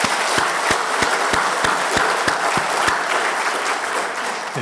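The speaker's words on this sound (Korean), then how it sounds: "크게 박수로 환영하시겠습니다." Church congregation applauding in welcome during a Sunday service, a dense, steady clapping wash with a few sharp, evenly spaced louder claps near the front, fading slightly at the end.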